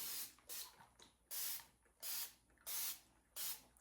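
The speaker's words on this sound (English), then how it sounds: "This is a continuous spray nozzle. So you spray your paints." A continuous spray nozzle misting watercolor paints in five or six quick hissing bursts, separated by short pauses, close and fairly quiet.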